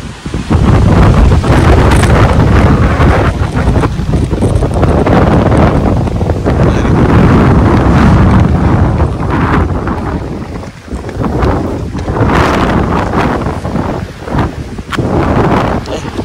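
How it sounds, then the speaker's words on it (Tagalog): Strong wind roars and buffets across the microphone at a highway rest area, loud and continuous with gusty surges and brief lulls, alongside faint voices. "Grabe, lakas ng hangin."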